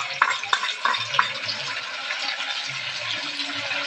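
Chillies and spices stirred in a frying pan for a Bengali village-style dish, a few quick scraping clicks of the spoon over a continuous bright sizzle, close and fairly loud.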